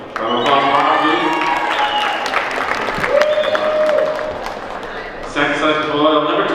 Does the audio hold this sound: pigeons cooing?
no